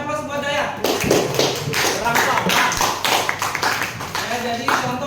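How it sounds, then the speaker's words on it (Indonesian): A classroom of students applauds for a student named Daya, a dense burst of clapping that starts after a brief pause and carries on steadily, with speech mixed in over the clapping. "Berikan aplaus buat Daya."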